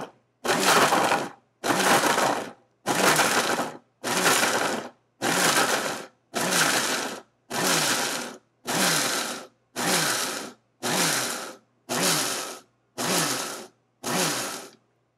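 Blender pulsing broccoli chunks on its ice crush setting: twelve evenly spaced loud bursts of grinding and chopping, each about a second long with short silent gaps, no talking.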